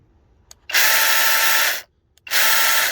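A Dewalt 20V electric mini chainsaw with a brushless motor whirs up to speed almost instantly into a loud, steady high-pitched whine, cuts off, then spins up again in a second close burst.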